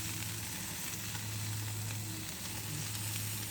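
Hamburger patties sizzle on a barbecue grill just after the final flip, a steady broadband crackle with a low hum beneath it, close and continuous with no talking.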